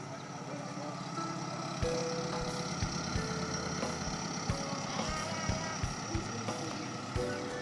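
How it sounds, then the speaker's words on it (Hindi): Passenger ferry carrying people and motorbikes pulls away from Kamalabari ferry ghat on Majuli, its steady engine drone running throughout with scattered knocks, clanks and faint voices around the deck. "तो ये फेरी अब पैसेंजर और बाइक वगैरह लेके यहाँ से निमाटी फेरीघाट की ओर जा रही है।"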